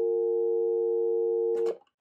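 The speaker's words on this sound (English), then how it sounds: "trying to pick the phone up off hook and hear a dial tone" A landline handset taken off hook through a SLIC module gives a steady, continuous dial tone that holds evenly for about a second and a half. A brief clatter of handling noise then cuts it off.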